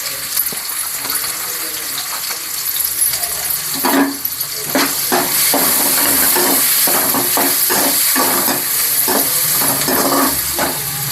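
Steady hissing and sizzling of finely chopped onions frying in hot oil, with intermittent crackles and clinks, close up and fairly loud throughout.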